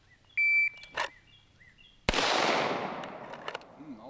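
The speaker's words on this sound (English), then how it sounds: "I'm going to keep on shooting." A single loud shot from a Rock Island Pro Ultra Match .45 1911 pistol fired outdoors, a sharp report with a long rolling echo, preceded by a beep and short noises and followed by faint chirps.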